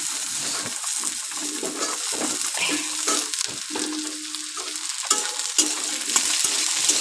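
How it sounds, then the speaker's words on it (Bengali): Potatoes and onions fry in a pan with a continuous close sizzle, while a spatula stirs and scrapes against the metal at irregular moments, some of them sharp clinks. "আলু দিয়ে পেঁয়াজ দিয়ে একটু ভেজে নেব ভালো করে"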